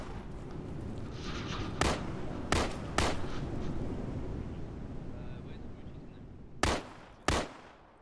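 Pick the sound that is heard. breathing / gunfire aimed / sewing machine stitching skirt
gunfire aimed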